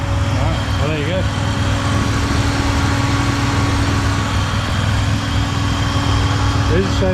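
A stock Ecotec Holden Commodore fitted with a turbo idles with an exhaust leak, giving a steady, loud, rough drone throughout with faint whistle-like flutters at the start and end.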